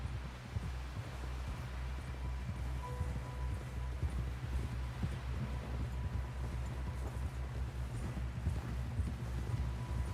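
Horse hooves clip-clopping at a steady trotting rhythm in a video game, moderately close and continuous, with a low ambient hum and faint rustling beneath.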